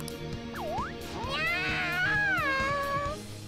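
A cat in Persona 5 Royal meows loudly and insistently, several rising and falling cries close up over background music.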